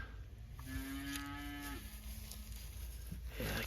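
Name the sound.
cattle mooing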